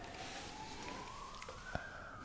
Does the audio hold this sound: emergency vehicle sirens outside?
yes